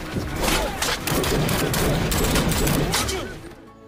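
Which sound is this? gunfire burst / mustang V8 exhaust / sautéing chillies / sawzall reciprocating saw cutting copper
gunfire burst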